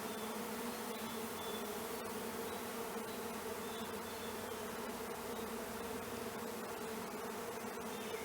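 A constant swarm of bees hums and drones around the listener at a hive box during orientation flights, unbroken and even in loudness throughout.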